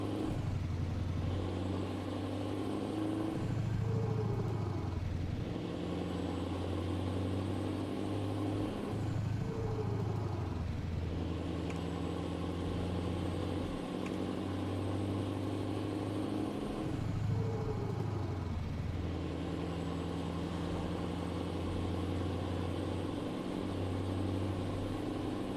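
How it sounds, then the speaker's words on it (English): A truck engine in Euro Truck Simulator 2 rumbles steadily with periodic gear shifts and revs, deep and continuous, with no voices. "I do like the sound of this truck."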